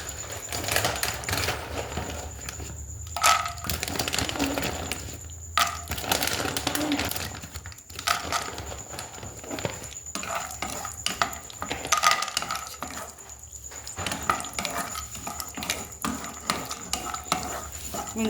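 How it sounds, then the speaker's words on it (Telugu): Cashews frying in a pan, a gentle sizzle under repeated clinks and scrapes of a spoon stirring against the metal, close and steady with no voices. "ఇప్పుడు మనం దీంట్లో క్యాష్యూస్ ఫ్రై చేసుకుందాం."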